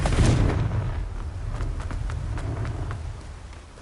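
A Confringo blasting spell from a Harry Potter video game explodes with a loud, deep boom at the start that rolls into a long, crackling rumble with scattered debris snaps as it fades.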